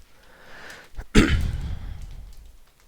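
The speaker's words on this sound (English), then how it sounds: "sometimes having to clear my throat" A single harsh throat clearing bursts out nearby after some quiet breathing, then trails off into a rough exhale.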